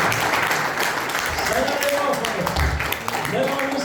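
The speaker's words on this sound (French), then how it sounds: "Donnez une bonne main d'applaudissement," A church congregation at a Christmas service claps in a dense, continuous round of applause, heard under a preacher's loud voice and crowd noise.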